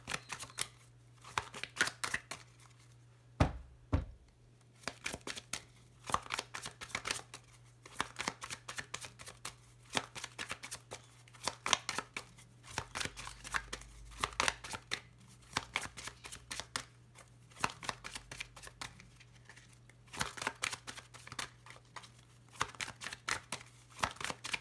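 Petit Lenormand oracle cards are handled and shuffled close up, with a long run of quick, crisp riffling and slapping bursts at an irregular rhythm over faint room hiss, no talking.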